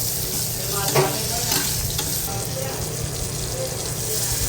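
Spiced mixture being stirred in a pan for a bitter gourd curry, an even close sizzle with soft scraping and a few knocks from the spatula.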